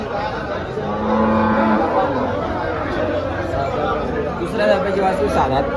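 A cow lows briefly amid the steady hubbub of a crowded cattle market in Dhule, India, with people chattering nearby throughout.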